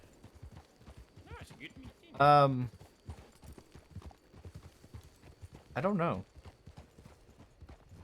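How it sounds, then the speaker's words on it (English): Hooves clip-clop in a steady rhythm from a horse in the Red Dead Online roleplay game, with two short horse snorts or whinnies, while people talk over it. "Is that somebody's horse?"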